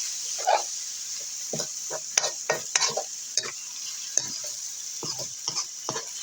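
Frog meat stir-fried with holy basil in a pan, a little water added: steady close sizzling with repeated scraping and tossing strokes of a spatula against the pan, no talking.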